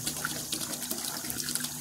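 Cold water runs from a tap into a container on a homestead, a steady, close, splashing gush with no voices over it.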